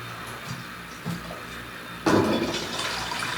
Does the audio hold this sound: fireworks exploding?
no